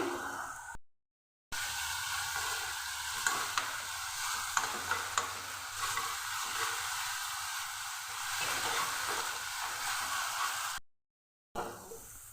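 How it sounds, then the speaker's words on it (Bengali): Ginger-garlic paste with cumin and coriander powder sizzling and frying in a pan, a steady broadband crackle with stirring scrapes, briefly cut by two short gaps of silence. "দিয়ে দিচ্ছি আদা রসুন বাটা, দিয়ে দিচ্ছি কাঁচা জিরে ধনের গুঁড়ো, ভেজে নিচ্ছি"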